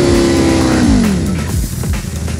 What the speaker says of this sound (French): Je vais essayer le launch control un peu plus violent cette fois-ci